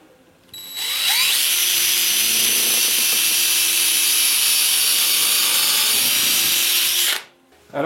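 A power drill boring perpendicularly into thin wooden sections for a garden planter with a forcing tunnel, running steadily and loudly for about six seconds after a short spin-up, then stopping abruptly.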